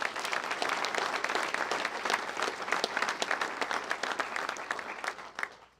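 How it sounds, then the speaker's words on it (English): An audience at a county State of the County address applauds a thanked official, a thick, continuous patter of many hands that holds strong for several seconds before tapering off at the end. "Please give him a round of applause."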